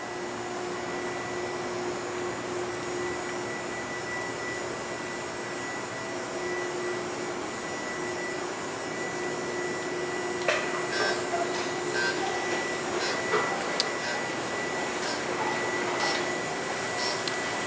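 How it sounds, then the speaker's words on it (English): Laser-controlled hoists travel along a station rack line in an industrial plating plant, giving a steady, smooth whirring hum with a faint high whine throughout and a few light clicks and rattles in the last seconds. "As you can see, the hoists are very quiet, very smooth."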